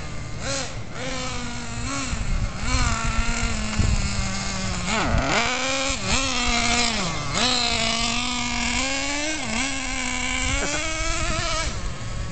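A JATO 3.3 nitro RC car engine runs continuously at a loud, high buzzing whine, its pitch rising and falling repeatedly as the throttle revs up and eases off, close to the listener with no talking.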